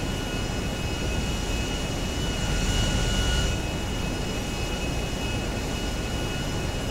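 Steady airplane engine drone from GTA 5, a continuous loud roar with a brief swell in the middle, heard alone without talk.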